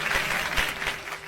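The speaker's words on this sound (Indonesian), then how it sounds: "Kasih tepuk tangan." A school class claps for a student in a short, lively burst of applause from many hands nearby.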